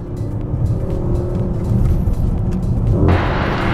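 Mercedes-AMG GLE 63 S Coupe performance SUV engine rumbles steadily on a test-drive curve, then a downshift near the end brings a sharper, brighter surge in engine note; heard from inside the car with no talking.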